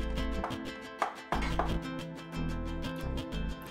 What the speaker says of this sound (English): Just mix them into the flour and do a chopping motion like this